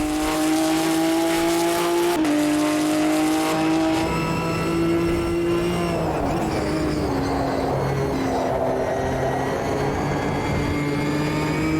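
A GT4 race car engine in a racing video game revs and shifts through gears with a high mechanical gearbox whine layered over the roar, continuous and loud throughout.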